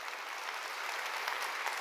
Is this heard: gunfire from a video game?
no